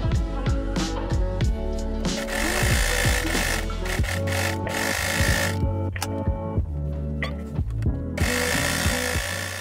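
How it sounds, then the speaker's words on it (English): An overlocker sewing machine runs steadily while neatening the fabric edges of a pinafore skirt, a loud continuous mechanical whir with shifting motor pitch and brief pauses, close to the listener. "So you can either use your overlocker, or if you don't have an overlocker you can use a zigzag stitch."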